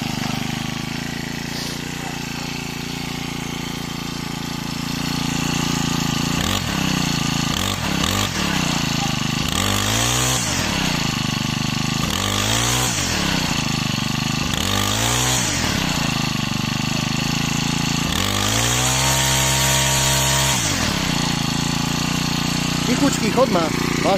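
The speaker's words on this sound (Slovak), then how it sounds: "tento Krobinores Procraft T5600. No zatiaľ z tohto Krobinoresu mám dobré dojmy" A Procraft T5600 four-stroke brush cutter engine running close by, idling steadily and then revving up and down in several repeated surges, with someone talking over it.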